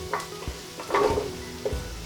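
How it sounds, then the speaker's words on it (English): Chunks of butternut squash drop into hot oil and curry paste with a quiet sizzle, followed by a few soft stirring scrapes and clinks of a utensil against the pan. "Going to add the butternut squash"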